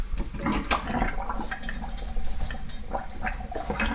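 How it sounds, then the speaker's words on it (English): Water poured into a cooking pot for a beef sausage, pepper and linguine dinner, a continuous splashing, gurgling pour that stays fairly loud and close throughout with no talking. "Put a little water in there."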